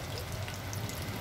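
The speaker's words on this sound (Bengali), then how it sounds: "একটু কালো জিরা ফোড়ন দিলাম, আর এমনি সাদা জিরে" Black cumin and cumin seeds crackle and sizzle steadily in hot oil while being tempered for a tomato fry, a dense, close frying hiss with no talking over it.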